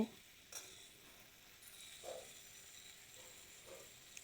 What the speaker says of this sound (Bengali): হলুদের গুঁড়ো, লঙ্কার গুঁড়ো, পরিমাণ মতন লবণ একসঙ্গে দিয়ে ভালো করে আবারও কষিয়ে নেব